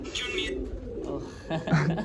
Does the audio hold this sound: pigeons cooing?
yes